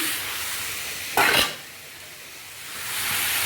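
Chopped bottle gourd drops into a hot pan and sizzles. A loud burst of frying hiss lasts about a third of a second, then settles into a softer steady sizzle that swells again near the end.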